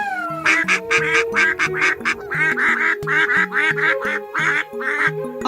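Cartoon ducks quack in rapid, overlapping bursts, a loud close chorus of nasal calls over a low repeating musical background.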